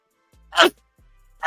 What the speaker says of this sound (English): Sneezing fit.